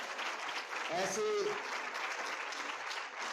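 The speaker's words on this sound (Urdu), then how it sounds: "ایک دفعہ پھر بھرپور تالیاں" Audience applause at a lecture on Allama Iqbal at Jamia Sargodha, steady clapping from the crowd throughout with a host's voice briefly speaking over it.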